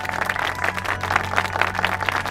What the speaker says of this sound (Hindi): वरदान इंडस्ट्रीज के फाइनेंशियल एडवाइजर के लिए जोरदार तालियां।